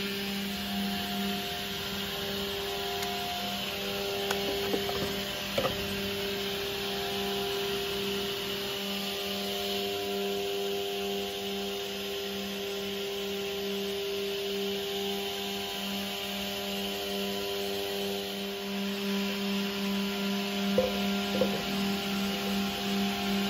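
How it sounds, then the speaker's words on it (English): A Brandt Optimat KD55 automatic edgebander running as it processes a panel, a steady mechanical drone with motor hum and faint clicks and rubbing noises throughout, heard at moderate distance without talk. "the machine feeds tape, applies glue, applies the edge,"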